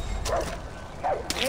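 A dog in the video game Far Cry 4 gives two short barks, about a second apart, over a steady game background.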